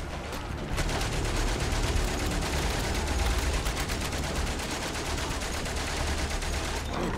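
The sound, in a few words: gunfire in video game Valiant Hearts: The Great War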